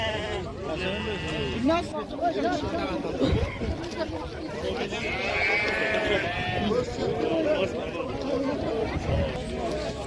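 Lambs bleat at a livestock bazaar, their cries rising repeatedly over a busy crowd of people talking nearby.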